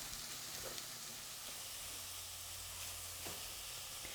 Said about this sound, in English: Now it's going to take a little while for this to saute down and soften up.